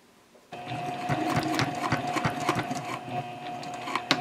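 A sewing machine runs steadily at close range, stitching fabric at a 3.0 stitch length for a project bag, with a constant mechanical whir and rapid needle ticks and no talking.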